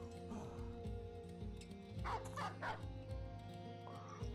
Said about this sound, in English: The dog's trying to go all the way around.